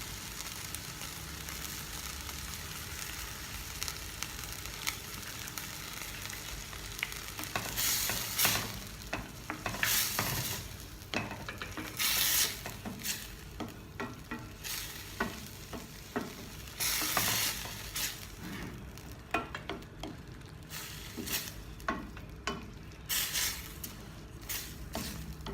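Mushroom masala bubbling and sizzling in a pan after coconut milk is poured in, with irregular bursts of crackling and stirring scrapes over a steady low simmer, fairly quiet and close.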